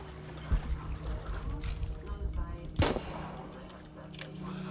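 Gunshots fired at cockroaches in Shadow of the Tomb Raider inside a cave, two distinct sharp reports with a faint one later, over a low hum and watery ambience with a voice talking.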